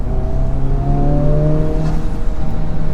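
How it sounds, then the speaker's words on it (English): A 2024 Honda Civic Type-R engine revs hard during an aggressive test drive, a loud steady drone with rising harmonic tones that climb and hold, continuous throughout with no talking. "when you start playing with the higher revs and driving this aggressively"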